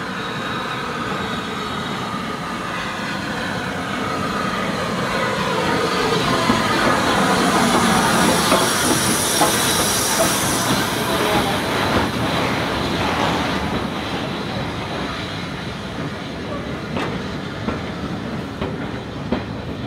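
Clan Line, a Pacific steam locomotive, rolls into a heritage railway's northern terminus station, with a steady rumble and rhythmic clickety-clack of carriage wheels that swells and fades, plus faint wheel squeal.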